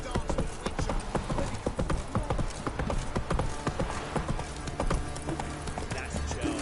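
Horse hooves clatter in a quick, steady galloping rhythm in Witcher 3: Wild Hunt, loud and close, with a brief voice heard over the hoofbeats.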